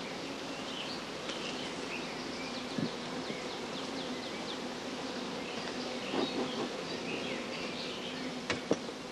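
Swarming honeybees fill the air with a faint, continuous buzzing drone, with a few brief louder insect passes and no speech.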